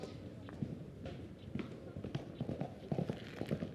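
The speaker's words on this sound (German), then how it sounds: "Ein Pferd galoppiert vorbei." A horse gallops past, irregular hoof thuds beating in quick succession, growing louder and denser toward the end as they pass at moderate distance.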